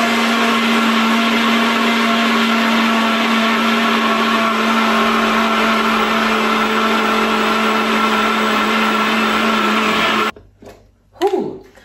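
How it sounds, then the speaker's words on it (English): A kitchen blender mills 200 grams of oats into flour with a loud, steady motor roar close by for about ten seconds, then cuts off, followed by a brief clatter. "We're using our blender just to mill these oats into kind of a fine flour."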